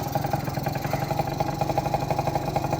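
A 20-year-old moped engine idles steadily after a carburettor cleaning, its close, even putter pulsing rapidly and continuously with no voices over it.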